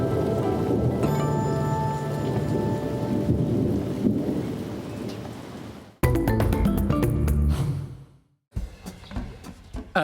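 Rain falling at an ape and monkey park, a steady broadband wash of drops with thunder rumbles and sharp cracks near the end, alone without voices.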